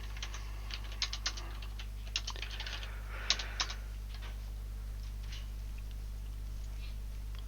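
Keys are tapped on a computer keyboard in short irregular bursts, faint and close, over a constant low electrical hum.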